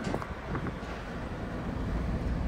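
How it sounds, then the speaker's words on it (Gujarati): Cold wind blowing across a Kashmir valley, a steady rushing roar with low rumbling buffets against the microphone, continuous and fairly close throughout with no talking. "ઠંડો ઠંડો પવન આવે છે"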